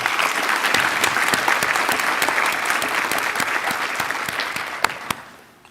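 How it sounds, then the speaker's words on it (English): An audience at a graduation ceremony applauding, a dense, steady wash of clapping from many hands that carries on evenly before tapering off and fading out at the end. "please give them a round of applause now"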